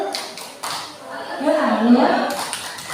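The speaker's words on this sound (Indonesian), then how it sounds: "Kita tepuk salut dulu ya." A group performs the Indonesian "tepuk salut" clapping chant, sharp patterned claps in quick bursts mixed with chanting voices, fairly close and moderately loud.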